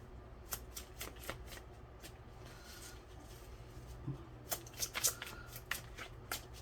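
A deck of cards is riffled and shuffled repeatedly, crisp flicking bursts close up, with brief pauses between passes; quiet room otherwise.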